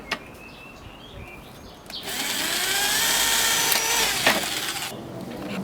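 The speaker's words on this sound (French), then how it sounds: "Un petit peu de perceuse." A power drill whirs steadily for about three seconds after a quieter start, drilling while building a compost bin, with brief higher-pitched bursts and light clattering near the end.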